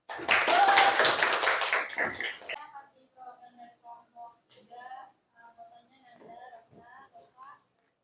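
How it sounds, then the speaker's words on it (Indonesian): Students in a classroom clap for a group for about two and a half seconds, fairly close and lively, then the clapping stops and quiet, sparse speaking voices follow. "kita kasih tepuk tangan"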